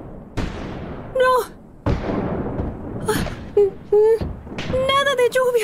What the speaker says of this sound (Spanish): ¡Nada de lluvia! ¡Cañonazos!